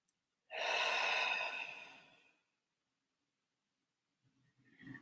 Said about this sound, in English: just sort of breathe in for 4